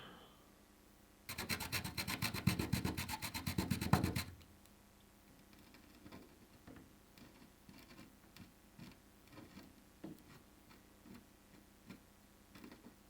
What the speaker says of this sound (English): on the surface it looks like the vinegar is reacting to something. I'll just scrape here.